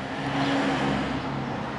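A Volkswagen Polo engine with a cylinder not firing properly and burning oil runs steadily nearby, a continuous close hum with a droning tone and no clear revving.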